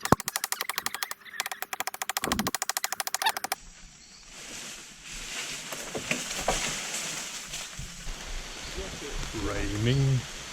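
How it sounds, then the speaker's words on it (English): Rain falling in the woods of Brazil, a dense patter on surfaces after a rapid rhythmic crackle at the start, with rustling and a voice speaking over it near the end. "Raining."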